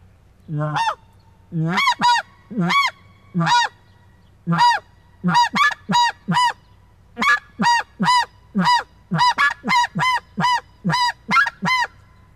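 A long run of snow goose honks on an Illusion snow goose call, ground gabble with shifting rhythm, some calls single and others in quick clusters, loud and close with no other sounds.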